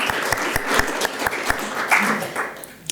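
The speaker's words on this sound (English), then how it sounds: "if we can just give them a round of applause for doing that" An audience at a charity welcome event claps together in a sustained, dense burst of applause, fairly loud and close, with a voice briefly audible near the end.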